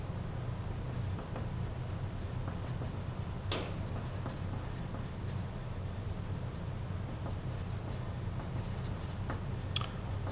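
A pen or pencil writes out an algebra solution by hand in short, quiet scratching strokes with brief pauses, close to the microphone over a soft steady room hum.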